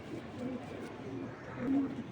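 A young racing pigeon, a year-old hen, coos softly in low, throaty bursts, with a fuller coo swelling near the end over a faint room hum.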